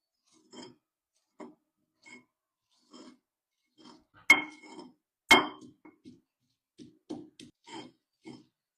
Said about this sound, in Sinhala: මේ මිරිස් කලේ විශේෂත්වය තමයි මේ විදිහට කොටනවා වගේම අපිට මේකේ අඹරන්නත් පුළුවන්.